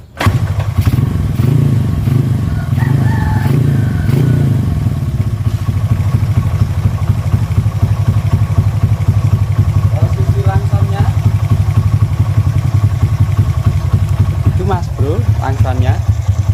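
A Honda Astrea Grand motorcycle engine fitted with a Jupiter CDI ignition runs steadily close by, a continuous loud idle with a few throttle blips, while someone talks over it at times.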